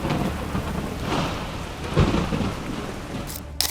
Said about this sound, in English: A huge storm front covers the city, and the lightning flashes quite ominously.